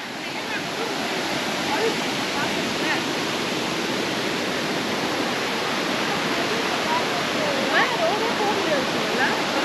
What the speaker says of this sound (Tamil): கோதையார் ட்வின் ஃபால்ஸ் தோ இருக்கு. இரட்டை அருவி.